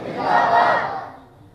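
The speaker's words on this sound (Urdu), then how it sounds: "انشاءاللہ یہ نعرے گونجیں گے۔" A large crowd roars a religious slogan in unison at a Khatm-e-Nabuwat gathering, one loud swelling shout that rises and fades within a second and a half.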